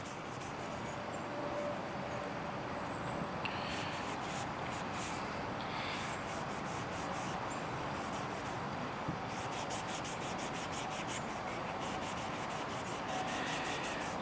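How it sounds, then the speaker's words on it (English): Steady rubbing of oil into a wooden knife handle, a continuous soft friction texture running the whole time with faint quick strokes near the end, close and fairly quiet, with no talking. "Just gonna rub that into that wood real good."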